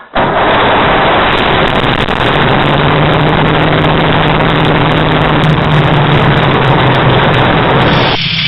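A light aircraft engine, just started, roars loud and steady close by, unbroken throughout, with a low droning hum that barely changes before cutting slightly at the end.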